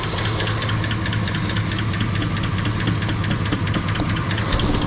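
A car engine idles steadily with the air-conditioning compressor running, a constant low mechanical hum and faint rapid ticking with no talk, heard close and loud throughout.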